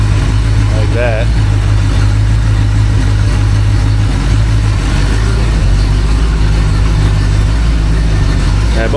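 Rebuilt Ford 289 V8 running on a homemade engine stand, a loud continuous rumbling idle close by with a steady low drone throughout, while someone talks over it.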